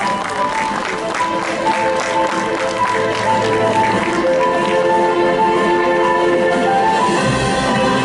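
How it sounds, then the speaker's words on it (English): An audience applauds at a Model United Nations (MUN) closing ceremony, with dense, steady clapping filling the hall for about eight seconds over a sustained tonal background. "A huge round of applause for them, please"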